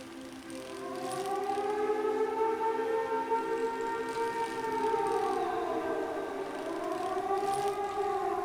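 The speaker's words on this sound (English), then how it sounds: "Sirens?" Wailing civil-defense-style sirens from the video game Season: A Letter to the Future rise and fall in slow layered sweeps, loud and steady throughout with no talking.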